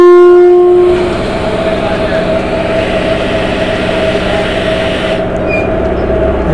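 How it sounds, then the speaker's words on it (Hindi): A local train on the Giridih–Madhupur line pulls into Giridih railway station, opening with a short horn blast and then a steady, loud rumble and rolling clatter of wagons that continues throughout. "हम लोग देख सकते हैं यहाँ से आके ट्रेन सटेगी।"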